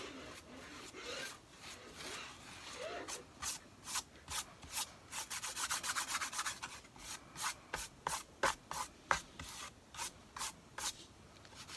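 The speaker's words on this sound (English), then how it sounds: "I'm more heavily distressing this part." Rhythmic hand sanding strokes rasp across a painted wooden memo holder being heavily distressed, at first steady and continuous, then in quick regular bursts close to the listener, with no voices.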